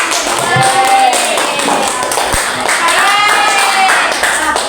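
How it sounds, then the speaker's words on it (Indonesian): A classroom claps after a group presentation, with scattered close hand claps and taps. Voices and talk run over the clapping for most of its short span. "Tepuk tangan sekali lagi untuk"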